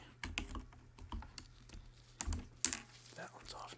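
Plastic keycaps pried off a computer keyboard during cleaning, giving a series of quiet clicks and snaps at irregular intervals with one sharper pop near the end, close up and alone.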